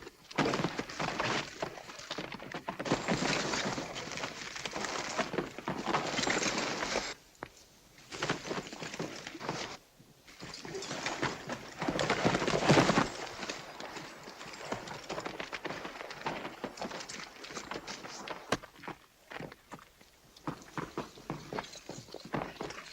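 Horse hooves clip-clop on hard ground in an old Western, irregular bursts of hoofbeats and scuffling coming and going, with brief pauses and some rough clattering between stretches.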